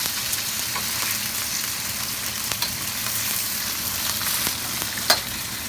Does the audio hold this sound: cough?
no